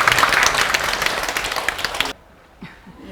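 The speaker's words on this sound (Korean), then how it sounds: "기쁜 입자를 발견한 보살님에게 박수 한번" A seated meditation audience applauds inside the main Dharma hall of Bongeunsa temple during a Seon meditation Q&A: dense, lively clapping that stops abruptly after about two seconds, leaving a near-silent room with a faint stir.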